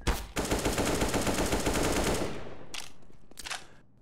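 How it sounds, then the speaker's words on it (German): An AK rifle fires a rapid automatic burst in the shooter game Counter-Strike: Global Offensive, close and loud for about two seconds, followed by two fainter short bursts. "Das klang gerade ziemlich komisch mit seiner AK"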